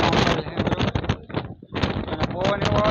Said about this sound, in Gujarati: બહુ પવન લાગે છે